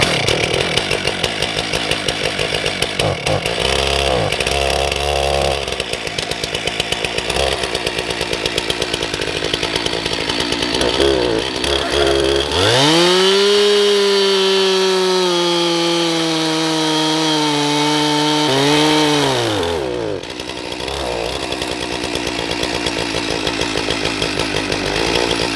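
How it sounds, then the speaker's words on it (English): A chainsaw runs steadily outdoors in the Ozarks, then bites into wood for several seconds with a loud, bogging drone before revving free again; close and continuous. "use the chainsaw to finish this one"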